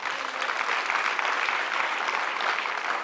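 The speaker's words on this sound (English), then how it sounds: "Let us clap for that." Audience applause at a 10th anniversary celebration, a dense, steady wash of clapping from a crowd that fills the whole stretch at an even level, with no voices over it.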